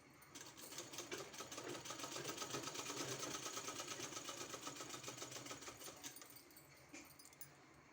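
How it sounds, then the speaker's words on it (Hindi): Sewing machine stitching around a fabric neck design, running steadily at a fast, even rhythmic clatter for about six seconds before slowing and stopping, close and alone with no talk. "हमको इसके चारों तरफ सिलाई करना है।"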